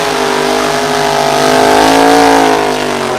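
A 1951 Ford Anglia drag racing car named Crazy roars loudly at a vintage night drag race, its engine building steadily in pitch as it launches and pulls away over about three seconds.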